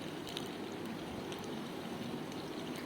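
Kerala Motha fish sizzles in a pan over high flame, frying until crisp on both sides; a steady, even hiss of hot oil fills the whole stretch with no voices.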